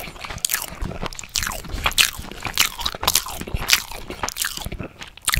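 Close, steady chewing of a salmon, cucumber and cream cheese sushi roll with sesame seeds and onions, with repeated moist crunches and squishy bites continuing without pause.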